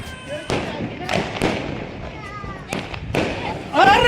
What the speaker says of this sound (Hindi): बम का धमाका देखिए